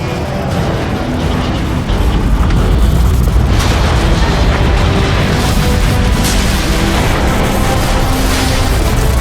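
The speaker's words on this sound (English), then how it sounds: "The neutron gun is activating!" A neutron gun powering up in a Transformers video game, heard as a loud, sustained rumbling roar with booming bursts that swell and continue throughout.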